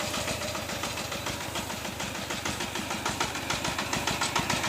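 A walk-behind tractor hauling bales of straw runs continuously nearby, its engine chugging with a steady, rapid pulsing beat and loud, even level throughout.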